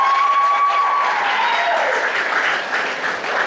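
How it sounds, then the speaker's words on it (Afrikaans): Loud, sustained clapping from a school assembly audience at Goudveld Hoërskool fills the space, with a brief tonal whine at the start fading under the continuous applause. "Kom ons gee hande klap vir die Here."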